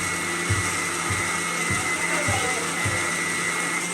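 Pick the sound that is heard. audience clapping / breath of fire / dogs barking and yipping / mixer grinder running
mixer grinder running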